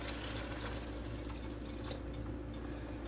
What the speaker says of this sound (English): we are going to add some water.